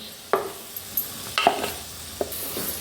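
Spinach gravy and paneer stirred together in a pan for restaurant-style palak paneer: a few scattered scraping and stirring strokes over a quiet, faintly sizzling background, with no talking.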